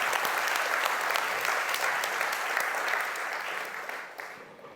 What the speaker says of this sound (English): Can I have a round of applause for Juliana?